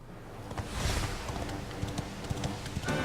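Rhythmic horse hooves clip-clop in the Dragon Quest XI video game, a quick trotting patter of hoofbeats with faint wind behind them, fairly close and steady.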